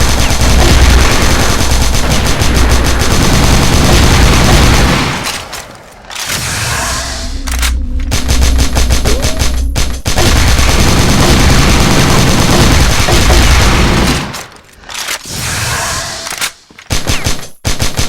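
Sustained, loud automatic gunfire from a KAC ChainSAW in the Crossfire video game, rapid bursts with short pauses and a choppy, broken final stretch.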